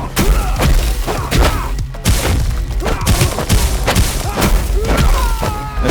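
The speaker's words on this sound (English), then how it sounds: "this is the first time a shotgun's introduced" A shotgun fires repeatedly during brawling in the Midnight Fight Express video game, with loud heavy booms and thuds landing in an irregular rhythm among impacts and crashes, close and punchy.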